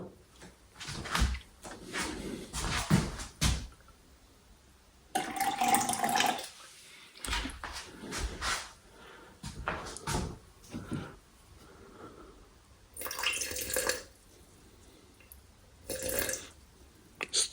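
Water pours into a container on a scale for a rye sourdough starter in several bursts of splashing, separated by brief pauses, fairly close and moderately loud.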